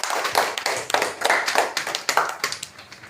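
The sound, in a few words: applause, children clapping for a group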